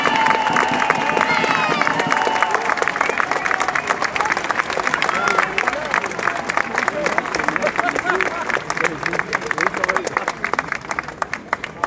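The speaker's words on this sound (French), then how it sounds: "Applaudissez-les plus fort que ça." Crowd applause and cheering at a street demonstration by a collective of resistant mayors, a dense continuous wash of clapping with scattered shouts lasting throughout, loud and close, with a voice speaking over it early on.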